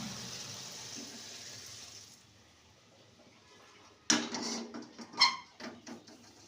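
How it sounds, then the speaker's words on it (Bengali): Water from a pot of boiled green peas pours out in a sudden splashing burst, then trickles and gurgles unevenly, close and fairly loud after a quiet start. "জলটা ঝরিয়ে নেব।"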